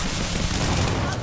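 Gunfire in the game Starfield, a short dense burst of shots with rumbling impacts, loud and continuous.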